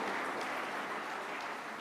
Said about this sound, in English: once again a big round of applause for Shri Milind Parandeji.